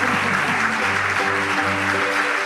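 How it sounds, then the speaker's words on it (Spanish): An audience in a municipal culture hall applauds, a steady, even wash of clapping that runs at constant loudness throughout. "Y ahora sí que llega el momento de aplaudir"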